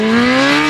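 A small, lightweight superbike engine fitted as the powerplant of a homemade jet ski, revving with a steady, loud whine that climbs slightly in pitch over a brief moment, heard alone.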